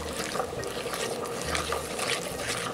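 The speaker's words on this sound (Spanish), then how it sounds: "Entonces vamos a diluirla con agua." Water trickles steadily into a corn-flour thickened sauce for Guatemalan chicken jocón, a soft continuous pouring sound with faint splashes, close by and fairly quiet.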